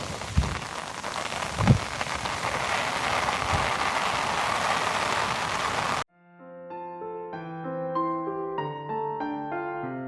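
Steady rain pours down on an outdoor surface for about six seconds, a dense near hiss broken by a few soft thuds, then cuts off abruptly to music.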